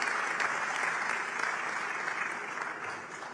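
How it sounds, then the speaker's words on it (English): Steady applause from a crowd, dense clapping that holds for several seconds before easing slightly toward the end. "that deserves a round of applause, really"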